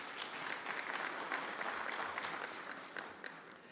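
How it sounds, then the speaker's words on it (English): An audience at a university graduation ceremony in South Africa claps steadily for several seconds, a dense, even burst of applause heard from within the hall. "Let us give him a round of applause."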